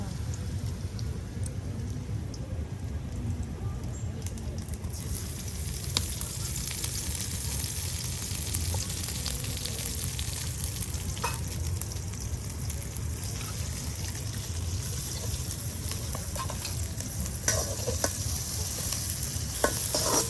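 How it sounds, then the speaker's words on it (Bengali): Ground spice paste of ginger, onion, garlic and cumin with chopped onion and chilli frying in oil for a Mymensingh-style country chicken curry, a dense continuous sizzle with occasional stirring scrapes, close and unbroken by speech. "একবার তেলের সাথে মশলাগুলো ভাজা ভাজা করে নিলেন"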